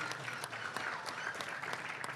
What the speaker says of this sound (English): Let's give our lifters another round of applause as they do their lap of honor